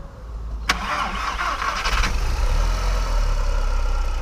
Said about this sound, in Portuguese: Dá uma ligadinha nesse motor agora pra vocês ouvirem